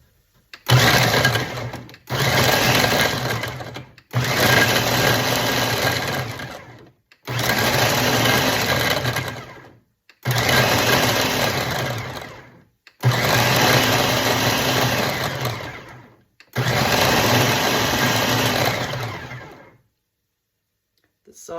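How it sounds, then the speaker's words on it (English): A food processor pulses to roughly chop hard sausage, firing seven loud whirring bursts of a couple of seconds each, separated by short silent gaps. "roughly chop our sausage in the food processor"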